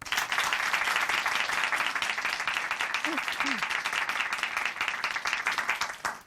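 A church congregation gives a big round of applause to a brother who shared his testimony, dense steady clapping from many people throughout, with a brief voice sound in the middle.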